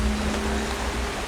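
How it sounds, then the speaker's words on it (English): Ocean waves rolling at sea on a rainy, windy day in the Drake Passage, a steady broadband wash of surf with a low engine-like hum underneath, continuous and moderately loud. "Some waves out there."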